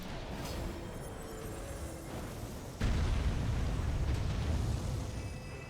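Jar cannon blast in the video game Elden Ring at night in the rain, a sudden loud boom that leads into a sustained rumbling roar over steady background noise.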